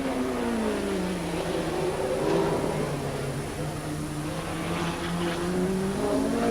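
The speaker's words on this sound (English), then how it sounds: "the leaders are now lapping some of the back markers" Trans-Am race cars lapping back markers at the Trois-Rivières street circuit in 1982, engines droning at a distance and rising and falling in pitch as they pass, with no one talking.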